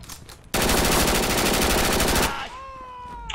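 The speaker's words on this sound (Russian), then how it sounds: "Да, пулемет вокруг ты вообще лежит там справа." Sustained burst of rapid automatic machine gun fire in the WWII shooter Red Orchestra: Ostfront 41-45, loud and close for about two seconds, followed by a fading ringing tail.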